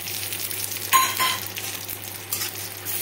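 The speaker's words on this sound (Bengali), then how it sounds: "যে তেলটা গরম হচ্ছে সেই তেলে কিছুটা পরিমাণ কাজু আর কিশমিশকে আমি এখানে ভেজে নিচ্ছি" Cashews and raisins fry in hot oil for a vegetable biryani, giving a steady close sizzle with a brief louder burst of crackle near the start and no speech.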